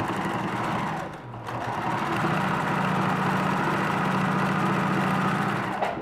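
A sewing machine stitches binding tape with white thread, giving a close, steady mechanical whir. It pauses briefly near the start, then runs continuously.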